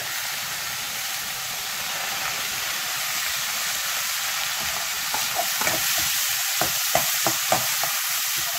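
Chopped onion, ginger and garlic hit hot oil with tempered cumin seeds, giving a loud, steady sizzle and hiss, with a few sharp spatters and stirring clatters near the end.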